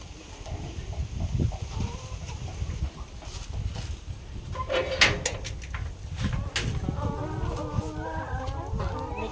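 Chickens kept together in a communal cage at a school farm, clucking and cackling steadily and close by throughout, with a few higher calls and a brief knock partway through.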